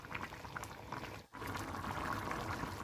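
Vegetable pulao boiling in an uncovered pot, village-style cooking: a steady bubbling and gurgling simmer heard up close and fairly quiet, with a brief dip partway through.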